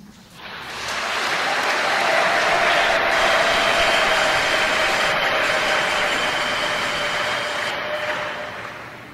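A church congregation applauds during the Archbishop of Lubumbashi's homily: steady, dense clapping that swells quickly, holds loud and even for several seconds, then slowly thins toward the end.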